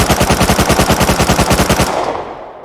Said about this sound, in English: we're just going to look at the recoil of the MP5 real quick